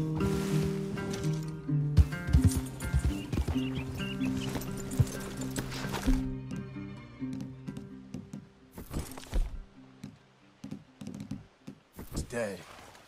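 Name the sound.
horses walking and whinnying in the video game Red Dead Redemption 2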